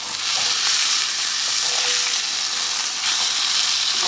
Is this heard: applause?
no